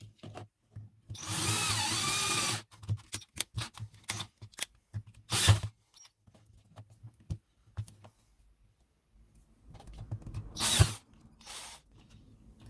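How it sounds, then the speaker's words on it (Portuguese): A power drill bores two side-by-side holes for CO2 hoses in a homemade CO2 system, two loud whirring bursts separated by quieter handling clicks and rustles. "Nesta daqui, a gente vai fazer 2 furos, um do lado do outro, para passar 2 mangueiras."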